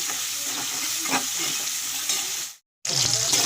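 Carrots and potatoes frying in oil for shukto give a steady, close sizzle with stirring scrapes throughout, cutting out briefly near the end before resuming.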